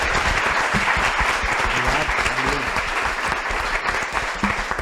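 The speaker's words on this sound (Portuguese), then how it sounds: "Agora uma salva de palmas para os nossos convidados" Audience clapping for guests at a SXSW 2025 health-innovation panel, a loud, sustained, even burst of applause from a sizable crowd lasting nearly five seconds, with a few voices murmuring underneath.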